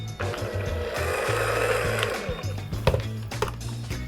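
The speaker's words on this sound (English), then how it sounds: "I'm gonna mix this in, and then we'll add in our wet ingredients." An electric mixer whirs steadily through whoopie pie batter, a close mechanical hum with rhythmic pulsing and a few knocks and clatters of the beaters against the bowl, heard alone.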